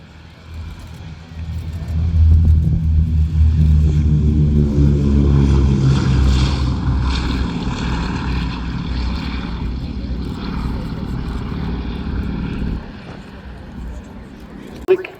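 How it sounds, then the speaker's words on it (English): Propeller engines of a Boeing B-17G Flying Fortress roar at the RAF Cosford Airshow, a loud, throbbing multi-engine drone that swells and then slowly fades as the bomber passes, with a person talking over it. "it's the Boeing B-17G Flying Fortress named Sally B"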